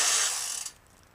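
A winch fitted with a freshly replaced solenoid pack gives a brief motor whir and ratcheting spool of cable, close and fairly loud, then stops sharply after under a second.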